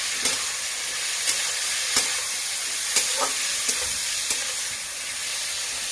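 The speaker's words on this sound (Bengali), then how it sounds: "আমড়াটা আস্তে আস্তে ভাজা হতে থাকবে" Ripe hog plum frying slowly in plenty of oil with turmeric and salt, giving a steady soft sizzle with a few sharp crackles and spoon clicks at intervals, close and alone.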